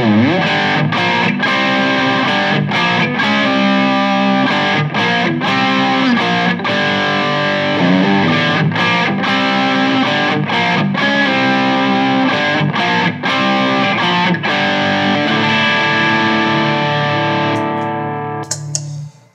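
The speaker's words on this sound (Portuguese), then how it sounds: "Vou ligar aqui o outro canal, que tem mais distorção." Electric guitar played through a high-gain distortion pedal channel, loud and saturated with sustained chords and riffs continuing steadily, no talking, fading at the very end.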